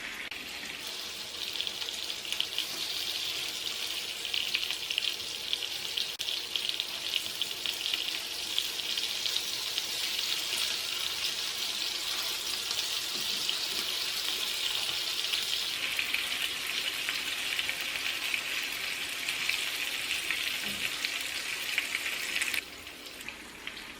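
Fish coated in ground spice paste fries uncovered in a pan, giving a steady, loud, close hiss and crackle of hot oil that continues almost unchanged and eases slightly near the end.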